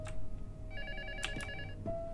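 An old-style telephone rings in the horror video game Luto, one tonal ring lasting about a second, moderately faint over a low ambient hum.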